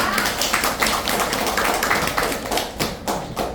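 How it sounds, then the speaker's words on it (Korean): An audience claps for a speaker at a Korean business lecture, a loud, close burst of hand claps with several sharp separate slaps standing out near the end. "큰 박수 부탁드리겠습니다"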